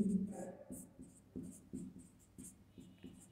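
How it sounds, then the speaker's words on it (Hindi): Marker or chalk writing a name on a classroom board during a Hindi-language political science lecture, a series of short scratchy strokes in uneven rhythm, close and moderately loud, with a little background voice. "जॉन रस्किन पूरा नाम भी हम लिखेंगे यहाँ पे"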